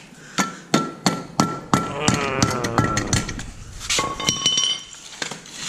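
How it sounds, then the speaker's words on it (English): Hammer blows strike the ABS wires and sensors on a BMW E36 car, a run of sharp metallic clanks with a ringing clink, about a dozen hits in uneven rhythm, loud and close. "Hammer the wires off. oh yeah, hammer the sensors."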